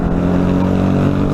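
A motorcycle ridden by a first-time rider who has already reached the sidewalk, its engine humming close and loud in a steady, continuous drone.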